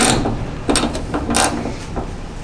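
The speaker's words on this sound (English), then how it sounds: "So now I'm gonna take the wrench and go ahead and tighten these bolts back up." Ratcheting wrench tightening bolts on a hood bracket of a Toyota Tacoma while fitting ditch lights, giving close, repeated clicking bursts in short runs.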